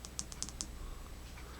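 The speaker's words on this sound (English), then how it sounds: "Then now we can go ahead and triple click this to get strobe" Several faint, crisp clicks of a ThruNite T1 flashlight's switch being pressed in quick succession, sharp little ticks close by over a quiet background hum.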